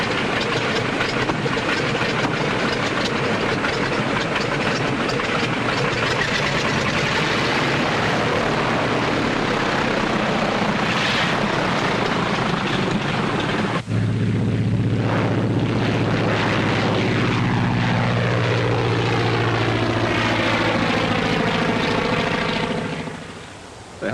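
A propeller airplane engine drones loudly and steadily in a 1939 film scene, then shifts into sweeping, changing tones as the craft passes, before cutting off abruptly.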